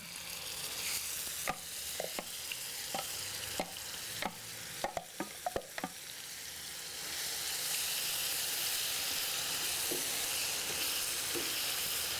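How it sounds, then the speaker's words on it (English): Balinese bumbu genep spice paste frying in oil, a steady hissing sizzle punctuated by sharp, irregular knocks and scrapes of a spoon against the pan, then the sizzle grows louder and fuller toward the end, close and without speech. "Don't let the oil get too hot or it will burn the paste."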